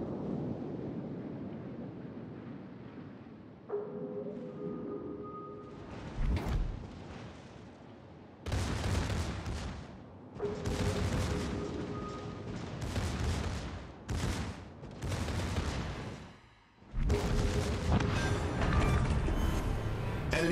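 Warship guns firing on an enemy cruiser in a naval battle game. Several heavy, booming salvos come in irregular bursts with rumbling decay, and wind-like noise and faint tones sit between them.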